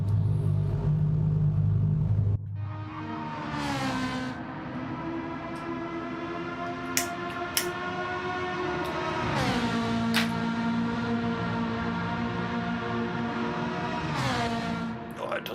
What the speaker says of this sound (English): Sound good, the Ferrari, especially in these contained walls here at Tokyo.